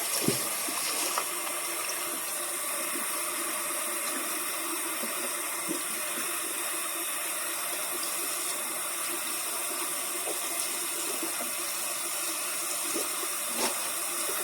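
Tap water runs steadily into a kitchen sink while a turkey is rinsed under it, a constant hissing splash with occasional small clanks and shifts, moderately close and without talk.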